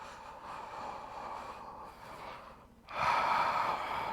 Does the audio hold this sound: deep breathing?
yes